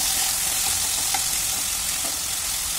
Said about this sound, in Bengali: আলুগুলোকে খুব ভালো করে নাড়িয়ে দেওয়ার পরে আমরা এটাকে আরও কিছুক্ষণ ভালো করে হতে দেব